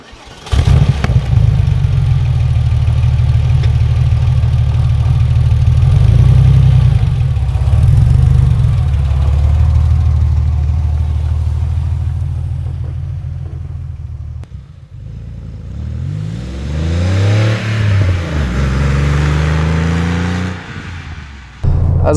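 Engine of a 1997 Porsche 993 Carrera 4S, sustained low rumble and hum while driving, steady and fairly loud through most of the stretch, then easing off and shifting in pitch toward the end, no talk over it.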